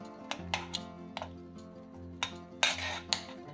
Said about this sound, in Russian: Когда ягоды станут мягкими, раздавливаем их ложкой.